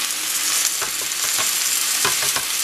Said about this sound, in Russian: Перемешиваем, ну и буквально минуты,